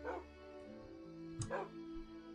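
Two short barks from tamed dogs in Minecraft, about a second and a half apart and fairly close, over a steady low game-music hum.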